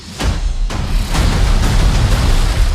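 A loud, heavy boom with sharp onsets, followed by sustained rumbling blasts that keep the low end dense and roaring throughout.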